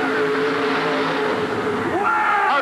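Drag race car at the 1988 USHRA Pittsburgh event shifting gears and firing nitrous oxide, a loud continuous engine roar with a pitch drop and rising surge near the end as the exhaust blasts, with a commentator talking over it.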